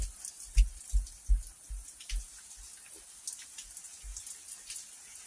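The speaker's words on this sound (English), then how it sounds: "raining pretty good here, man. Shit just started dumping." Steady heavy rain from an atmospheric river patters on a surface, with a few heavier drops and low thumps scattered through; no voices.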